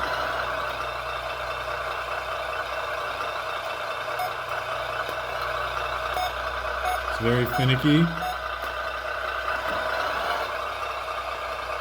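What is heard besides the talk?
RC truck sound kit reversing beeps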